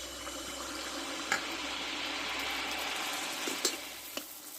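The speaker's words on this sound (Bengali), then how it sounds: "দেখো এবার এক হাতে করে ব্যাটারটা দিয়ে দেবো" Suji poa pitha batter frying in hot oil, a steady close sizzle throughout with a few sharp pops and spits rising above it.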